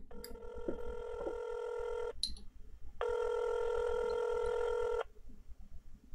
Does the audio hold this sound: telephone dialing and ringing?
yes